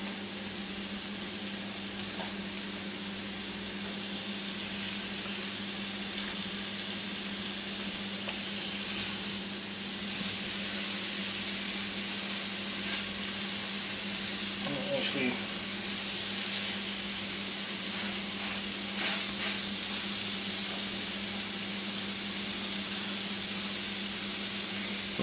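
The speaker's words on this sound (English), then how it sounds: "We're going to take and throw our Salisbury steak patties in there." Salisbury steak patties sizzle in a large pan on a stovetop at medium heat, a steady broadband hiss running the whole time with a few brief clatters and scrapes, close and fairly loud with no talking.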